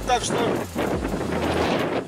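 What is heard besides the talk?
strong wind on microphone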